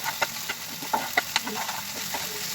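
Gravy with chopped onion and chilli fries and sizzles steadily in a pan, stirred with occasional soft scrapes and clinks over a constant close hiss.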